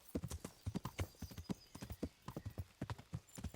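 A horse ridden along a main road in Kingdom Come: Deliverance clip-clops at a steady walking rhythm, crisp close hoof strikes in pairs, alone without talk.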